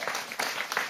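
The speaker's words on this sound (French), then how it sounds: "Mais oui, vous pouvez l'applaudir." Studio audience applauding on a French political TV talk show, a dense, steady wash of clapping that swells in short bursts throughout, with no talk over it.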